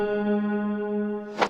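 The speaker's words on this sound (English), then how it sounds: "I just grabbed a piano, the simplest piano inside of Ableton, and I dropped it down by an octave" A plain piano patch in Ableton, pitched down an octave, sustains a low steady tone with stacked harmonics for over a second, then a short bright burst cuts in near the end.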